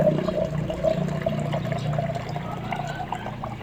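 Water pouring in a continuous stream with a steady, gurgling flow, fairly loud and close, running without a break and with no talk over it.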